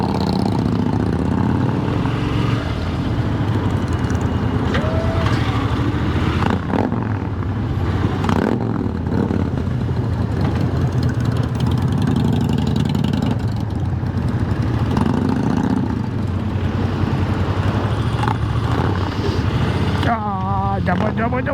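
A Harley-Davidson 1450cc motorcycle engine revs and rumbles steadily nearby, with people talking over it throughout.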